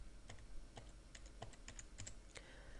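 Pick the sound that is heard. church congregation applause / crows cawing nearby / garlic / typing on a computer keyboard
typing on a computer keyboard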